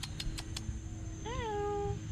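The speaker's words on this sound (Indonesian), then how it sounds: "Ada kucing-kucing, nampak kucing-kucing." A cat at a campsite gives a single clear rising-then-falling meow, quiet against a low background hum, after a few soft taps.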